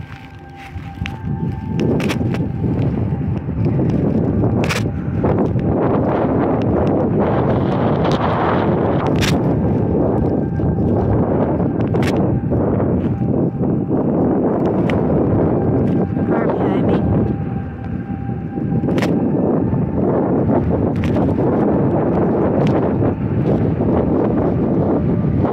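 Gusty wind buffets the microphone outdoors on a street in Kenosha, loud rumbling bursts that swell and ease throughout, with occasional knocks and handling sounds.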